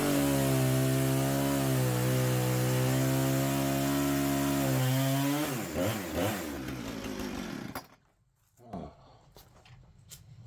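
A power saw cuts off a section of a black walnut log, its engine a loud, steady droning roar for about five seconds before the pitch wavers and the noise dies down to scattered faint clatter.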